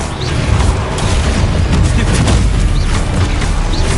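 The Confringo blasting spell erupts in Hogwarts Legacy as a loud, dense, continuous rumble of booms and crashes filling the whole stretch.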